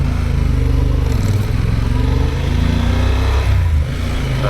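A motorcycle engine runs steadily close by on a ride from Oaxaca toward Popocatépetl volcano, its low throbbing drone continuous throughout with slight rises and dips in pitch.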